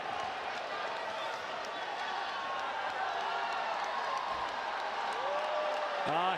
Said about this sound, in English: The crowd has not stopped cheering, still on their feet here in Nilai.